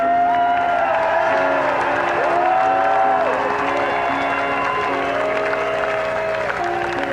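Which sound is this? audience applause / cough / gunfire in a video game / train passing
audience applause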